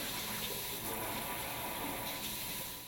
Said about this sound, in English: Test the spray and stream modes of the wand.